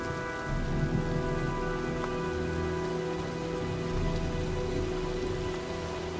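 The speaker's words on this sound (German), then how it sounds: "sieht nach einem Sturm aus." Heavy storm rain pours steadily in the video game Heavy Rain, a dense continuous hiss of drops on surfaces with a low rumbling undertone, loud and unbroken throughout.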